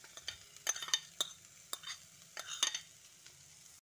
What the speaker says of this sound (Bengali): বাঁধাকপিটা দিয়ে সব কিছু একসঙ্গে ভালো করে মিশিয়ে দিচ্ছি।